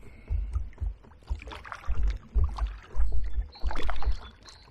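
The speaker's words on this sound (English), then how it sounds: "you hear the noise underneath the boat." Water slaps and gurgles beneath a hybrid drop-stitch kayak hull with a solid plastic keel, paddled on the River Medway near Tonbridge. It comes as rhythmic, close low thumps about once a second, with splashy wash over them and no talking.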